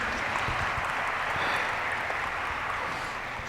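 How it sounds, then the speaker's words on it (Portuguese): Applause at an interview event fills the whole moment as a steady, dense patter of clapping hands, fairly close and continuous, with no talk over it. "Palmas."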